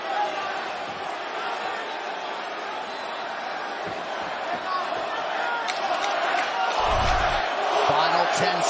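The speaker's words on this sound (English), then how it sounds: "Now the crowd get behind Masvidal." Arena crowd at the Masvidal vs Nate Diaz fight keeps up a steady roar beneath a commentator's voice, swelling louder toward the end with a few sharp thuds.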